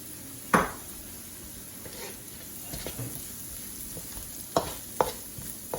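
Spoon stirring a pan of idiyappam mix with vegetables, chili flakes and cooked egg, giving a few sharp scrapes and taps against the pan over a faint, steady sizzle.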